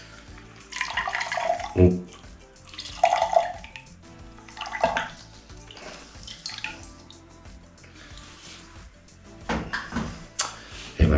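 Half a yellow lemon is squeezed by hand for a Gin Fizz, with juice splashing and dripping into a glass in several short wet bursts separated by quiet pauses, close up; a brief word is spoken.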